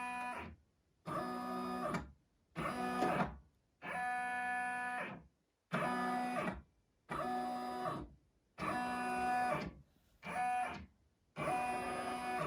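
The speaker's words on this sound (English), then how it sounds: "I'm going to press this button here, and that will do a quick ring around to see where it goes" An embroidery machine makes a quick tracing pass around the outline of an appliqué design for a T-shirt, giving eight or nine close, steady bursts of mechanical whirring, each lasting about a second, separated by short silent pauses.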